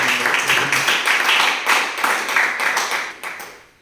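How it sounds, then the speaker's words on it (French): A church congregation in Orléans claps along in quick, rhythmic, fairly close applause that keeps an even beat before tapering off at the end. "nous acclamons"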